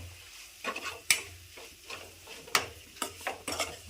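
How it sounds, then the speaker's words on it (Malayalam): Chicken curry masala fries gently with onions in a pan, a faint sizzle under a series of distinct spoon strokes and scrapes as it is mixed, close and quiet. "ഫ്രൈ ആക്കുക അത് കഴിഞ്ഞിട്ട് മിക്സ് ചെയ്യുക സവാളയുമായിട്ട്"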